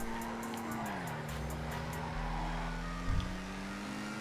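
Lampadati Cinquemila sedan in GTA Online cruising at top speed, a steady engine drone with a sustained tone and faint road noise, no talking.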